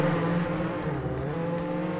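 Car engine in the Roblox Jailbreak video game, a steady droning hum that holds at an even level throughout, with no talking.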